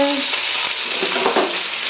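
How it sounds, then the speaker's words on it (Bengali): Food frying in a pan in a home kitchen, a steady, close sizzle with a few brief stirring scrapes, no talking. "ভাজা হচ্ছে"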